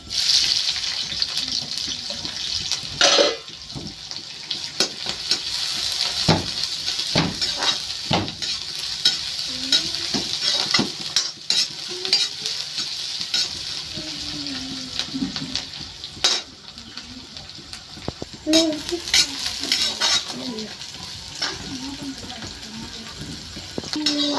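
Onions fry and get stirred in a pan in a village kitchen, a steady sizzle broken by frequent scraping and clattering of a spoon, with a voice talking at times over it.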